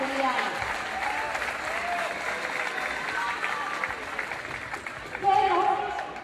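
A concert crowd applauds a band steadily, a dense wash of clapping with a voice briefly cutting through near the end.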